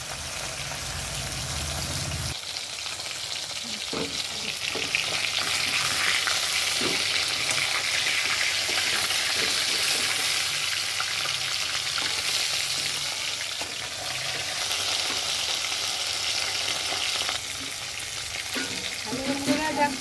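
Carp frying in hot oil in a wok gives a steady, loud sizzle and crackle that runs for the whole stretch, with occasional stirring scrapes and no talk.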